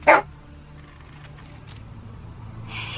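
A single short dog bark in The Walking Dead Season 2, sharp and fairly close at the very start, followed by a quiet low ambient hum and a faint noise rising at the end.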